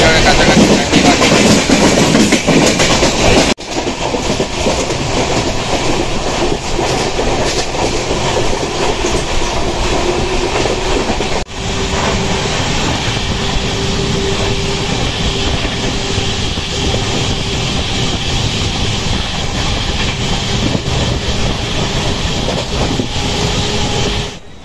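Black Diamond Express passenger train (Howrah to Dhanbad, 22387) running on rails near Andal Junction, a loud steady interior rumble with wheel clatter and rail noise throughout, a brief drop and shift in tone midway.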